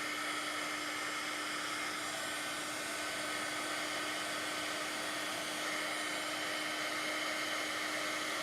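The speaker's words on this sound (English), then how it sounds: "this heat tool does dry it a little faster" A heat tool blowing hot air to dry watercolor paint on paper, a steady loud whooshing blower drone with a constant motor whine, uninterrupted and without voices.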